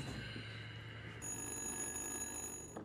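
A telephone rings steadily, faint and distant, under a low background hum, with no voices.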